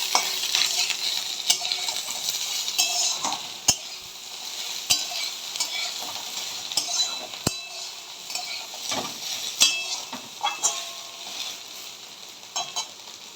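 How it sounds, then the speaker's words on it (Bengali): Soybean chunks frying in mustard oil for a vegetarian curry: a constant bright hiss close up, broken by sharp spoon knocks and scrapes against the pan at irregular intervals, with no voices. "সয়াবিনটাকে একটু ভালো করে ভেজে নিচ্ছি।"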